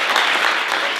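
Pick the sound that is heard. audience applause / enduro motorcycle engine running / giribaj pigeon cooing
audience applause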